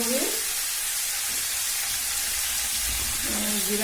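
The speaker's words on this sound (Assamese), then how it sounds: "এইখিনি মই এতিয়া অলপ ভালকৈ ফ্ৰাই কৰি ল'ম" Cumin and ground spices frying in oil for a jackfruit dish, giving a steady, continuous sizzle that holds at an even level the whole time, with soft stirring noises and no talking.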